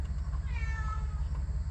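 A house cat gives a short, rising and falling meow, faint and close, over a steady low engine hum from a 2006 Jeep Liberty idling with a misfire.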